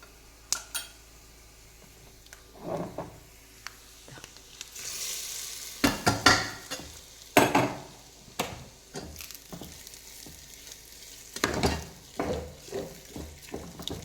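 Coconut, dried chillies and curry leaves tempered in hot oil for a jackfruit curry, with scattered stirring scrapes and bursts of crackling sizzle, clinks of a utensil against the pan, heard close with no talk.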